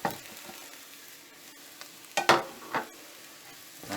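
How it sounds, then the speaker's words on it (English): Garlic, spice powders and salt frying in a pan over a low, even sizzle, broken by a few bursts of scraping and stirring near the middle and again at the end. "garlic is fried now until it's slightly brown. Now add all the powders and about 3/4 teaspoon of salt"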